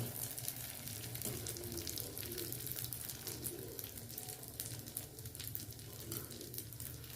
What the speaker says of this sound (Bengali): একটা চামচের সাহায্যে গরম তেলের মধ্যে এইভাবে ব্যাটারটাকে দেব